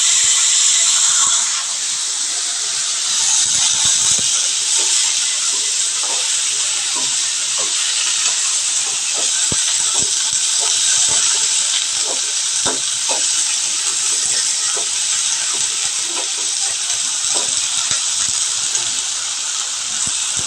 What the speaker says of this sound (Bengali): এবার আমি যেটা করব সেটা হচ্ছে ফ্রাই তেলে সবজিগুলোকে একটা একটা করে দিয়ে দেবো